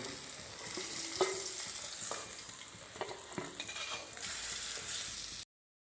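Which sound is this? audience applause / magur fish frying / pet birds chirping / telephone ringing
magur fish frying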